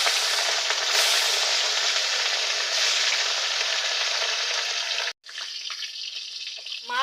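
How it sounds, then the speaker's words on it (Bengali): Pieces of catla fish fry in hot oil, a loud, dense, continuous sizzle heard close up that cuts off for a moment, then resumes with faint scraping, and no one speaks. "প্রথমে মাছগুলো ভেজে নিচ্ছি।"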